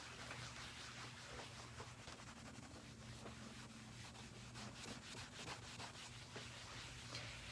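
Hand-buffing a painted wood finish dusted with a burnishing powder, a steady close rubbing and scrubbing that runs without pause, with a faint low hum underneath and no talk.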